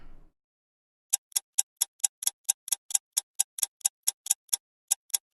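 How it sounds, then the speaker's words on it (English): Clock timer ticking from a live-stream sound effect button, a steady run of crisp, evenly spaced ticks about four or five per second, clear and alone with no talk. "The clock will remain ticking as long as it needs to."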